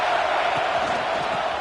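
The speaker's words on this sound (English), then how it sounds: "This crowd ready to make its presence known." A packed stadium crowd at a Florida vs USC college football game roars in a dense, sustained wall of cheering and yelling, loud and continuous throughout with no break.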